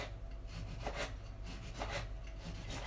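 A knife slicing through a tomato on a board in a home kitchen while making a goat's cheese salad, giving soft repeated cutting strokes, close and moderately loud, with no voices.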